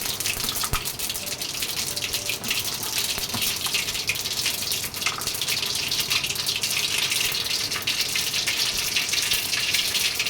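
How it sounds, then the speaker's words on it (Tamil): Mustard seeds and cumin splutter in hot oil for a bitter gourd kuzhambu, a loud continuous hissing crackle with dense tiny pops close by, steady from start to finish with no speech. "எண்ணெய் ஊற்றி கடுகு போட்டுட்டேன் ஜீரகம் கொஞ்சம் ஆட் பண்ணிக்கணும்"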